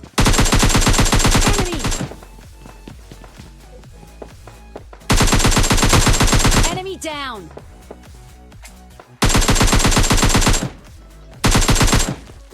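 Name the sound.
automatic gunfire in the video game PUBG Lite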